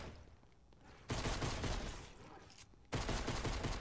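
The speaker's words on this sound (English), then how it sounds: "shoot the gun that God gave you" Gunfire from the Alan Wake video game comes as two loud, sustained bursts, each starting abruptly and holding over a lower rumbling background.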